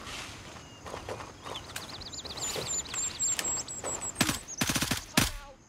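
Bursts of rifle fire in the tactical shooter Gray Zone Warfare, with several sharp, loud shots clustered near the end over quieter background activity and faint footsteps.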